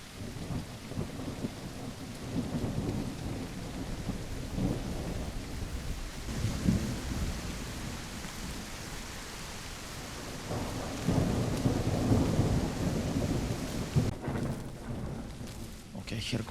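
A video game thunderstorm in The Isle keeps heavy rain falling steadily throughout, with low rolling thunder swelling a few times, loud and enveloping.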